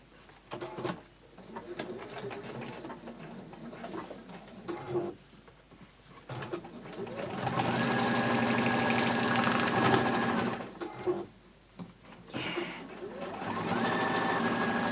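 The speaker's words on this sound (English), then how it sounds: "I will sew from this side down that straight line" A sewing machine stitches a straight seam on a glitter pouch, its motor whirring in bursts that lengthen into steady runs, close and clear, with brief pauses between them.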